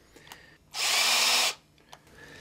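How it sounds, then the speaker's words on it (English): A Forstner bit in a power drill boring a round, flat-bottomed hole in a cast resin marlin head lure, one loud close burst of just under a second between quiet stretches with small taps. "I'm taking a special type of a bit. That's called a Forstner bit. It's made to drill a nice,"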